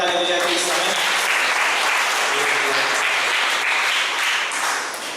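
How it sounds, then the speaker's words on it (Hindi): Loud, sustained applause from a congregation clapping together at a Sunday evening church service, a dense wash of hands that holds steady for several seconds before easing slightly at the end. "क्यों ना हम परमेश्वर के लिए जोरदार ताली बजाएं इस समय"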